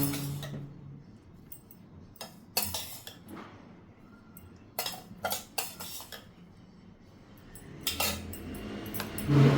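A spoon clinks against a metal pot while roasted rice rava is stirred into jackfruit pulp, jaggery and coconut, producing irregular bursts of scraping and tapping, close and fairly loud.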